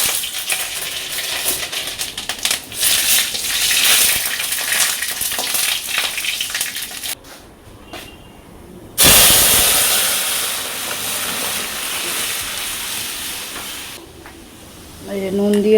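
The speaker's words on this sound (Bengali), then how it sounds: "কড়াই গরম হয়ে গেছে, দিয়ে দেবো শুকনো লঙ্কা আর সর্ষে" Dried red chillies and mustard seeds crackle and sizzle in hot oil in a wok for a sour lentil dal, a loud, dense frying hiss that dips briefly partway through, then surges back close and strong.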